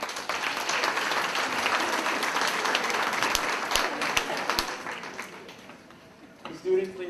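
An audience applauds in a school auditorium after eighth-grade capstone presentations, a steady, moderately distant wash of clapping that gradually thins out, ending with a voice.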